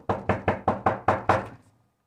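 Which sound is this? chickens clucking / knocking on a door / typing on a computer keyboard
knocking on a door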